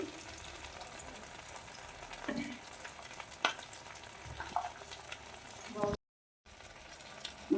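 Ginger and cumin powder fry in oil in a pan with a soft, low sizzle, punctuated by occasional scraping stirs and a brief gap near the end.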